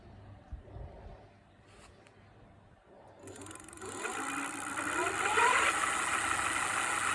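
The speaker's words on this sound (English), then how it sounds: "But if I just show you the wheel spinning," Electric fat tyre bike with a brushless hub motor and 20x4 tyres, wheel spinning freely: a faint whir that rises after a few seconds into a steady, louder high-pitched hum with a climbing tone.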